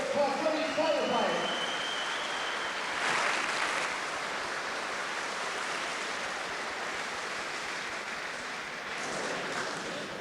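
An audience at a boxing event applauds promoters and managers with a sustained wash of clapping that stays fairly even and moderately loud for the whole stretch, with speech faintly mixed in.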